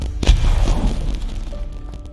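Expelliarmus spell cast in the video game Hogwarts Legacy, a loud close boom with a deep rumbling burst that trails off over about two seconds.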